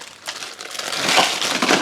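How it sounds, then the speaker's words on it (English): Dry ramen noodles snap and crunch inside their plastic package, a loud, close crackle of brittle breaking mixed with crinkling wrapper over under two seconds. "First, you're gonna break the noodles into fours like this, right?"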